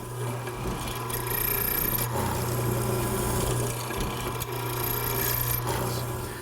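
Stationary mortiser cutting a mortise in wood for a side chair's back stretcher, a steady close motor hum with grinding and rasping through the cut, continuous for several seconds without talking.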